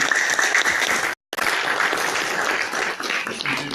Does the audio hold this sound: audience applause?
yes